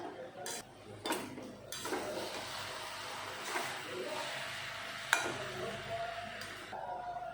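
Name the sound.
stirring fried cabbage and tomato in a pan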